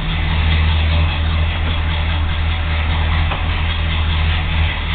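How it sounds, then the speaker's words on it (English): Idling exhaust of a 1971 Chrysler 300, a steady low rumble that stays loud and even throughout, with no talk over it. "you can hear that exhaust too"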